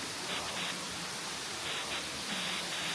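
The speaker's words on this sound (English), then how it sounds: "there we have the waterfall" A waterfall in rural Cambodia gives a continuous broad rushing hiss of falling water, steady and fairly close, with no voices over it.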